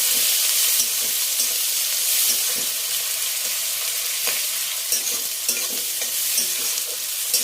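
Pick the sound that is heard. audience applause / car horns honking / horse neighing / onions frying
onions frying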